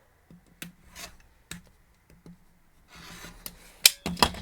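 Scissors or a rotary cutter trimming cotton quilt block fabric, a few soft snips and rubs spaced out, then a louder cluster of sharp cutting sounds near the end, close and alone.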